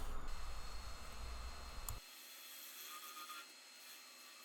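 A small skew chisel cuts a dovetail into spinning wood on a lathe, giving a steady, close scraping hiss that stops abruptly halfway, leaving only the quieter hum of the turning machine.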